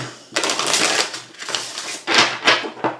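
Tarot cards being shuffled by hand, giving bursts of riffling, flicking card noise in quick uneven clusters, loud and close and heard alone.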